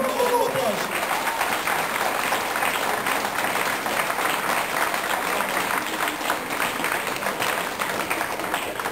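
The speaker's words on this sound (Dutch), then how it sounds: "Daarvoor ook nog een applaus." Audience applause at an award ceremony for the 6- and 24-hour ultramarathon in Steenbergen, 2008: steady, dense clapping from a crowd that fills the whole stretch at an even level.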